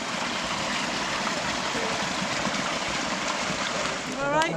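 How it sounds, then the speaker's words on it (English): A small mountain-fed stream at a campsite runs steadily as continuous broadband water rush, close and fairly loud throughout. "Quirky little stream or something."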